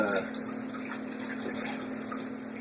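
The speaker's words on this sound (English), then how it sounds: "I'm going to go ahead and rinse one more time on my neck." Water rinsing over the neck during a shave, heard as a steady close wash of running water with a constant hum beneath it, with no clear breaks.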